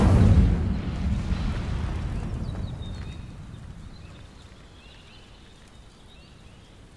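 An Incendio fire spell ignites dry vines in Hogwarts Legacy, a loud sudden whoosh and burst of flame that rolls into a fading crackling rumble, with faint magical shimmer above it.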